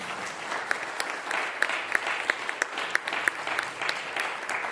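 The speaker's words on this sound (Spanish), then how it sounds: "Dale un aplauso al Señor." A church congregation applauds during a sermon, a moderate wash of clapping with a few sharp, distinct claps punctuating it at a fairly regular beat, heard alone without speech.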